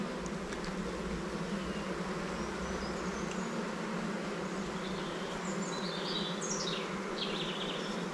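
A strong, exploding honeybee swarm buzzing at an open hive during an inspection, a dense continuous drone close by, with individual bees whining past at higher pitch now and then.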